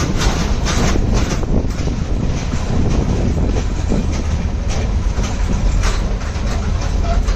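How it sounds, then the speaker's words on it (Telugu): Rumble and rhythmic clickety-clack of a passenger train running along the seacoast between Galle and Colombo in Sri Lanka, heard from inside a carriage, loud and steady with wind buffeting the microphone. "ట్రైన్ అయితే ఆగట్లేదు, వెళ్ళిపోతుంది"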